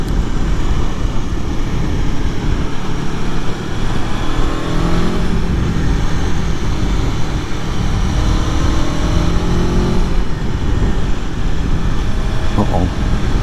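An Aprilia Tuono motorcycle engine drones steadily while riding, with wind rush throughout and gentle rises and falls in revs as the bike moves along the road.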